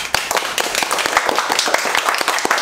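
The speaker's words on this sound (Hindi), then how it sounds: "म ताली बजाउन चाहन्छु।" A group claps in quick, uneven bursts, the sharp hand claps overlapping into brief, lively applause.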